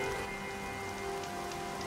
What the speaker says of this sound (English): Oh, the rain. Love it.